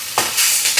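Chicken fried rice frying in oil over high heat, a loud, close, continuous sizzle with a few brief surges of spatter.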